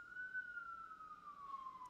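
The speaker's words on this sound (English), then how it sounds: "Damn, sirens." Emergency vehicle siren wailing steadily in the distance, a single sustained tone that slowly falls in pitch, faint over quiet room background with no talking.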